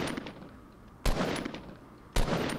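Two loud, sharp gunshots in Fortnite, spaced about a second apart, each with a short decaying tail over a low background hum.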